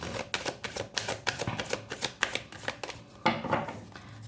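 A deck of oracle cards is shuffled by hand, a quiet, close flurry of rapid papery riffles and taps in quick bursts.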